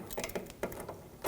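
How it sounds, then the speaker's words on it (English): A ratchet with a 16mm socket clicks a few times on an Audi S4 rear sway bar link nut, giving short, quiet, uneven mechanical clicks up close. "Now using a 18mm wrench on the stud side of the link, then a 16mm socket. I'm going to take the nut off."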